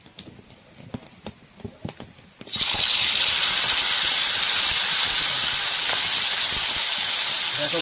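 Marinated pomfret fish lowered into hot oil in a kadai: after a few quiet seconds of small clicks, a sudden loud, dense hiss of sizzling oil bursts in and holds steady.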